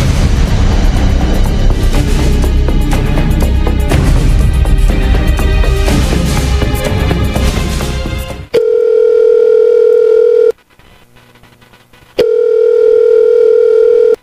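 Telephone ringing tone on an outgoing call: a loud, dense stretch of sound gives way to a steady ringback tone that sounds, pauses for nearly two seconds, then sounds again, clear and close.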